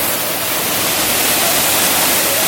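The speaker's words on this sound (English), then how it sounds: "We are at our second location right now, which is this huge waterfall. I don't even know if you can hear me because of how loud it is." A huge waterfall in North Carolina roars close by, a loud, dense, unbroken rush of falling water with no other sounds.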